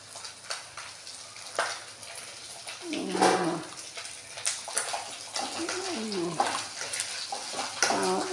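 Oil sizzling and crackling as something fries, with bursts of bubbling and spattering that rise and fall, close by.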